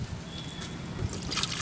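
Water pours into a hot car radiator during a coolant flush at home, a steady, faint gushing trickle that runs continuously throughout.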